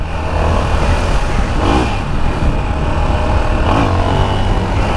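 A Yamaha XT660 motorcycle engine runs loud and close, revving in a couple of throttle pulls over a steady idle rumble, with no voices.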